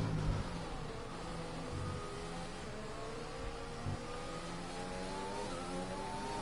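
Formula racing cars from a racing video game, their engines droning with rising and falling pitches as several cars pass and jostle for position, a steady layered whine throughout with no talk.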